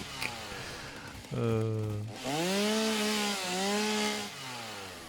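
Chainsaw in the Satisfactory video game, revving in strong harmonic bursts that rise and dip in pitch across several seconds, fairly close and loud.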